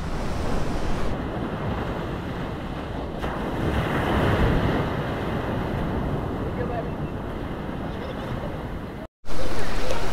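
Ocean surf on a public beach during shore fishing, a steady roar of breaking waves mixed with wind buffeting the microphone, swelling slightly midway and carrying on throughout.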